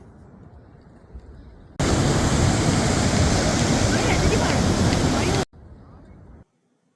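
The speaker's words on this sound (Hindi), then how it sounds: "आप पानी की आवाज का मजा लीजिए।" Loud, steady rush of a flowing mountain stream on the Beas Kund trek fills the middle of the clip for several seconds, with muffled background sounds just before and after.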